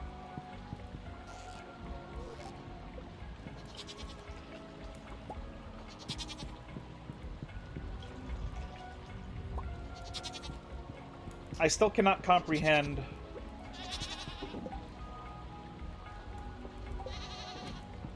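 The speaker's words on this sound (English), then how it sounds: "I still don't understand why these goats are off." Goats bleat in Stardew Valley as game sound effects under steady talk, a short burst of bleats standing out midway against a background of soft rain and ambient game audio.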